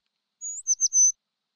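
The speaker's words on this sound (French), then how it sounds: "Oui, un oiseau!" A cartoon bird gives a short, high-pitched call in a children's animated show: a thin whistle followed by a quick run of bright chirps, clear and alone against silence.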